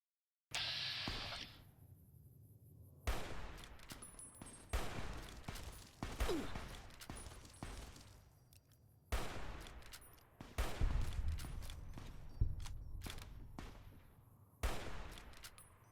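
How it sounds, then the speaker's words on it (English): Gunfire in Fallout New Vegas arrives as repeated sharp bursts of shots with gaps between them, some single cracks and some rapid volleys, moderately loud and echoing. "Who the fuck is shooting me?"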